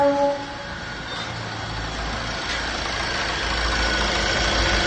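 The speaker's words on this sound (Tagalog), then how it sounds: "Hayaan nyo munang umandar siya ng ganyan, nakaparking." A 2018 Hyundai Accent CRDi diesel with low power idles while parked, a steady low engine rumble that holds level throughout, alone after a brief faint sound at the start.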